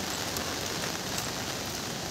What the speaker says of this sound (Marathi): सकाळी सकाळी खूप पाऊस येतोय